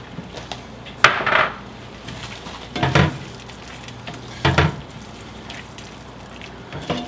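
A spoon stirs chopped parsley into a white wine and tomato sauce in a pan, giving a few distinct scraping and clinking strokes against the metal over a faint sizzle, with no talking.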